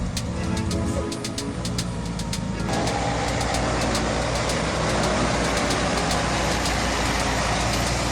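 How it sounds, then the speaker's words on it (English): A heavy timber truck loaded with logs roars along narrow, crowded village roads, its big diesel engine droning loud and steady throughout with a deep low rumble and a shift in pitch early on. "The timber transport truck roars powerfully as it moves through narrow, densely populated roads"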